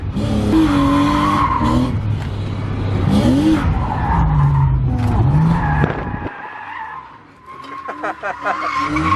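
A BMW E36 drift car skids with long, wavering tire squeals over engine noise, loud and close, repeating in slides before trailing off and picking up again.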